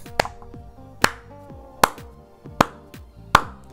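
Hand clapping, five sharp, evenly spaced claps about a second apart, close and crisp with a short ringing tail after each.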